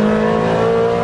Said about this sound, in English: And you end up revving it just for fun.